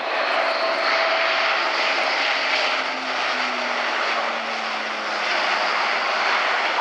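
An Airbus A400M military transport, a large propeller aircraft, drones steadily overhead at an air show, a loud continuous engine roar with a slowly shifting pitch and no talking.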